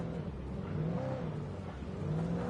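A car engine in Alan Wake Remastered revs and whirs, rising and falling in pitch as it accelerates, fairly quiet and steady, with no voices present.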